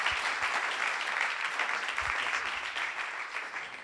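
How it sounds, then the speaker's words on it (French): Audience applause rings out at a French startup pitch evening as the first team is welcomed to the stage, a dense, steady wash of clapping that holds at even loudness throughout. "Les gars, on vous applaudit bien fort."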